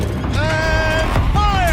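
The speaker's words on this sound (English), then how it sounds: "Rotate turret!" A heavy turret rotates in Horizon Zero Dawn with loud grinding, creaking mechanical whines that rise and fall in two sweeps, close up and over a low rumble.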